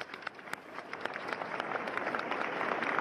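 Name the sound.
crowd applauding at a funeral procession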